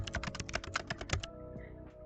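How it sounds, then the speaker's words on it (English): Rapid keyboard typing sound effects from A Date with Death: a quick, close run of clicky keystrokes that stops abruptly, followed by a faint tonal hum. "why is there typing sound effects when he's supposed to be speaking to me in person?"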